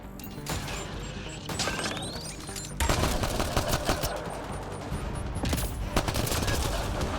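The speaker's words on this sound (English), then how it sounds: "Oh, he's got a Gatling gun." Rapid automatic gunfire from a Gatling gun in the sci-fi video game Mass Effect Andromeda, loud and sustained in dense bursts mixed with mechanical clatter and other combat noise.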